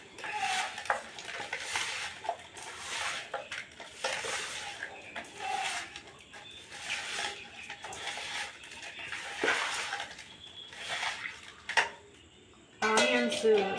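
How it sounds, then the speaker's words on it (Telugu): Curd goes into a village-style biryani marinade and a spoon stirs and scrapes it in a bowl with repeated soft clinks and wet mixing sounds, fairly quiet and close, with a few louder knocks near the end. "కర్డ్ వేస్తున్నాను ఫ్రెండ్స్. ఇదంతా మ్యాగ్నేట్ చేసుకోవాలి ఫ్రెండ్స్."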